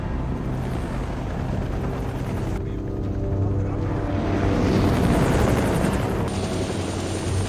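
Helicopter in an action crime film, a loud steady rotor and engine roar filling the whole scene with rumbling low thump, close and continuous.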